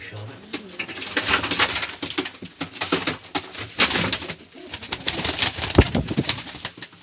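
Pigeons from an old breed lot, set out for an auction, coo steadily and close by, with layered throaty calls and occasional rustling throughout.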